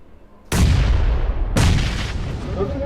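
Two loud grenade blasts in PUBG Mobile, about a second apart, each a sudden heavy boom that decays into rumble, with faint talk in the background.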